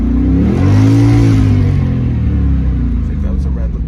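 A Ford Mustang Cobra engine revs up toward redline, a loud, steady, rising roar that holds near the top and then eases slightly, close to the microphone.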